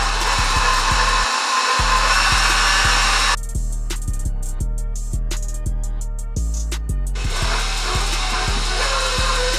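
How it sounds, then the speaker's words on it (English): A stand mixer kneading cinnamon roll dough for apple cinnamon rolls, its motor humming steadily with a regular rhythmic thump and knock from the dough hook turning, close and loud with no talk. "I just keep it in the stand mixer for a little longer so it kneads it"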